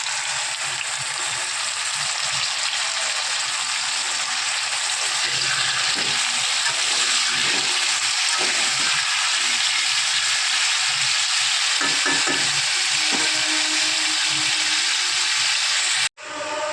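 Chicken cooking in a home kitchen pan gives a steady, close, loud sizzle of frying with faint scraping and stirring throughout, cut off abruptly near the end; no one speaks.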